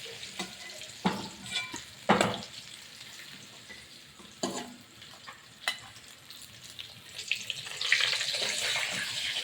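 A rohu fish head fries in hot oil in a home kitchen, a soft sizzle broken by sharp spattering pops and clinks of a utensil, growing into a brighter hiss near the end.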